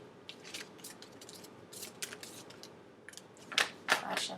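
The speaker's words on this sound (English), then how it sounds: "2 more shuffles." Quiet, crisp riffling and slapping of tarot cards being shuffled, in short irregular bursts with a couple of sharper snaps near the end.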